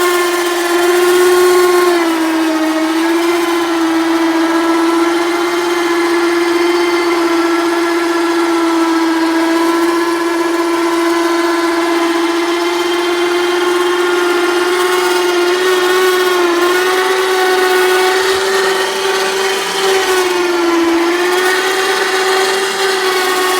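Parkit 360 trailer dolly electric motor straining as it climbs, a loud steady whine that sags and wavers in pitch throughout, heard close and alone.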